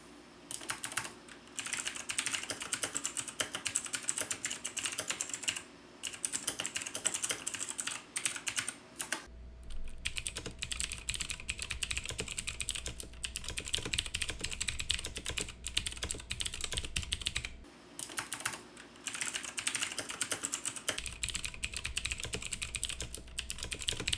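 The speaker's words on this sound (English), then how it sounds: "Take a listen for yourself in these two compared sound tests of the old versus the new switch" Two Razer mechanical keyboards, one with the old switches and one with the new, are typed on in turn, giving dense, continuous clacking keystrokes in close-up. Short pauses separate the runs, and one run carries a deeper thump underneath.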